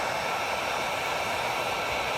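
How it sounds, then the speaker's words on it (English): A heat gun blows hot air along a seam of bent Yamaha Blaster ATV plastic, a steady, close, unbroken roaring hiss with no variation and no talk. "Now I'm going to hit it with the heat gun along this seam"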